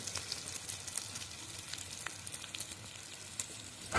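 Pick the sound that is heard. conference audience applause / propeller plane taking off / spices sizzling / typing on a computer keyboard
spices sizzling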